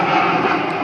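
A passing airplane roars overhead in the bush, a loud, broad, steady engine rush with no other sounds breaking through.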